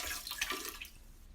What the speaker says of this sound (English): exactly a third of this bottle down the drain